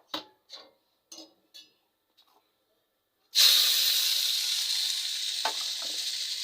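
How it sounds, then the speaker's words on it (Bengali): Leafy greens drop into hot white oil in a pan and set off a sudden loud, steady sizzle that carries on hissing. A few soft clicks and taps come before it. "সাদা তেল দিয়েই ভাজছি এটা"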